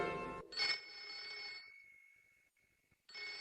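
A cartoon telephone rings in short bursts of bright electronic bell tone, a clear ring followed by a pause and another ring starting, moderately loud with no talking.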